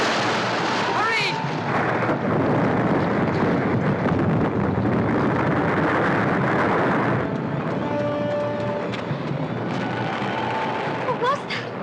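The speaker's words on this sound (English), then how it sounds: "An explosion." Explosion in a 1977 science-fiction adventure film, a loud sustained rumbling roar that fills the scene, with shouting voices at moments over the blast.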